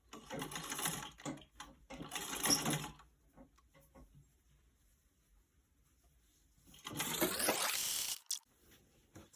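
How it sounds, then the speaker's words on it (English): A sewing machine stitching a hem runs in short bursts of rapid mechanical stitching, stops through a quiet gap, then whirs again briefly. "Now we're going to go to the sewing machine."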